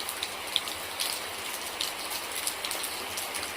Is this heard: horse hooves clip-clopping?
no